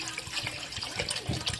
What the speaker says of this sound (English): Now we're going to add our water to it.